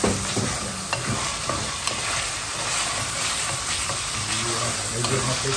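Beef and bitter melon fry in a pan while being stirred, a steady close sizzle with scraping and clinking of the utensil against the pan throughout.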